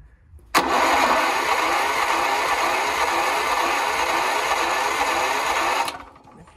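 A warmed-up petrol or diesel generator engine cranks under its starter for about five seconds, a loud, close, rhythmic churning that cuts off abruptly, then falls to quiet.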